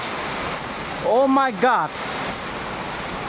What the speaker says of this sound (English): this is the waterfalls. Oh, it's very high.